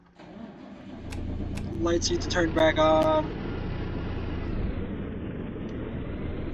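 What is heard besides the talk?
Peterbilt 350 truck engine in American Truck Simulator video game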